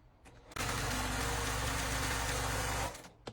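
A sewing machine runs a 1/4 inch seam in one continuous burst of a few seconds, a steady close mechanical whir with a fast stitching hum that starts abruptly and then winds down.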